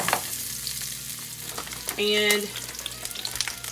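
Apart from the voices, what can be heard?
breaded okra frying in bacon grease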